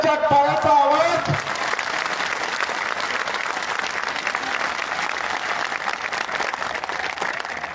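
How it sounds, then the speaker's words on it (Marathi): Loud, sustained applause rolls through a large political rally crowd in Hingoli district, Maharashtra, a steady wall of clapping that follows a voice speaking at the very start. "पुन्हा जोरदार टाळ्या, प्रत्येकाच्या टाळ्याचा आवाज"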